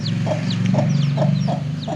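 A hen clucks repeatedly in short, close bursts over a steady low background hum.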